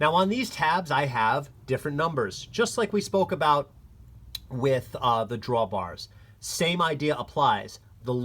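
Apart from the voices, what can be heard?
No distinct noise like a dog, phone or traffic.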